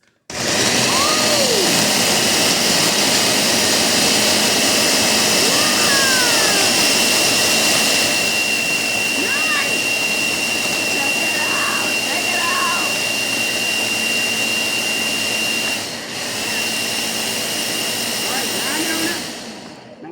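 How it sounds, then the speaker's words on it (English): Blender grinding a seedy fruit smoothie very fine, a loud continuous motor roar near the microphone throughout with slight pitch shifts, someone talking over it. "Gonna get this real grind up real nice because it's got to go through the straw"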